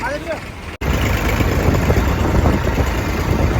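A heavy tractor engine runs steadily and loudly nearby, a constant rumbling drone after a brief cut at the start.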